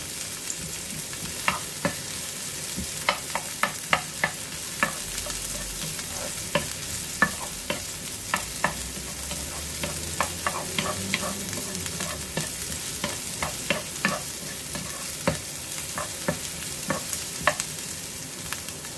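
Garlic browning in a pan, heard as a steady close sizzle with frequent sharp clicks of a utensil stirring and tapping against the pan throughout, with no voices.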